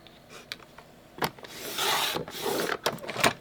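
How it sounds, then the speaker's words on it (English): Scissors or a cutter slices paper into half-inch strips for craft ribbons, giving sharp snips and longer rasping cuts close by, with no talking. "So I'm just cutting these into 1/2-inch strips to prepare to make ribbons with them."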